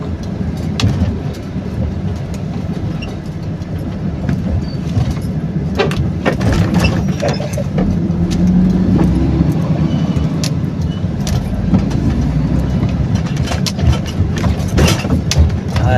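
Heavy road traffic in Camarines Sur, a steady low rumble of car and bus engines idling and creeping along a jammed road, continuous and fairly loud throughout with occasional nearer engine swells and faint background voices.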